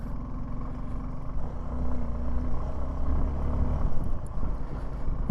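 A motorcycle rides a rough, rocky mountain road between Gunji and Om Parvat, its engine a steady, low, close drone that swells slightly midway, with rattling and jolts over the stones.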